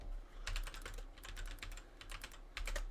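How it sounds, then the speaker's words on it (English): Quick bursts of clicking keystrokes on a computer keyboard, close and fairly quiet, typed in short uneven runs with small pauses between them. "Totally not typing in name generator right now."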